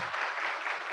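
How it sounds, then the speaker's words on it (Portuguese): A short burst of dense crowd applause fills a solemn Teachers' Day tribute session, steady and moderately loud throughout. "uma salva de palmas"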